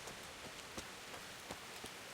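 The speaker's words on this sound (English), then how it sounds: "you do get clean in the rain" Steady rain pours in Kingdom Come: Deliverance as a dense, even hiss, with a few slightly louder drops standing out now and then, and no voices.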